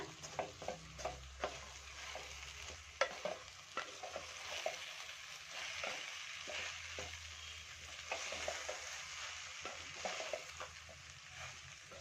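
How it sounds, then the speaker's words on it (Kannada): A spatula stirs fried ingredients mixed with cooked rice in a pan, giving repeated scraping and clinking strokes over a soft sizzle in an irregular rhythm throughout, with no talking. "ಇವಾಗ ಇದಕ್ಕೆ ಅನ್ನನ ಸೇರಿಸ್ಕೊತೀನಿ ನಾನು ಮುಂಚೆನೆ ಮಾಡಿ ಇಟ್ಕೊಂಡಿದ್ದೀನಿ ಅನ್ನ ಅದನ್ನು ಸೇರಿಸ್ಕೊತೀನಿ ನೋಡಿ ಚೆನ್ನಾಗಿ ಒಂದ್ಸತಿ ಮಿಕ್ಸ್ ಮಾಡ್ಕೊಳ್ಳೋಣ"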